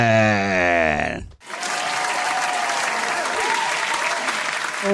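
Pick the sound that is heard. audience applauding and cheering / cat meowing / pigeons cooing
audience applauding and cheering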